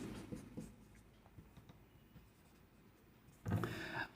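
A pen scratches a word onto paper in soft, intermittent strokes, quiet and close, ending in a brief louder burst of rubbing.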